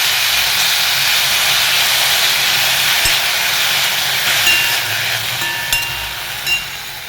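Fenugreek leaves frying in ghee until dry, a steady broad hiss and sizzle running the whole time with a few faint clinks near the end, no talk.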